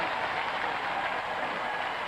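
Steady, dense applause from a studio audience at a Robot Wars robot combat event, a continuous even wash of clapping held at a constant level with no distinct individual claps standing out.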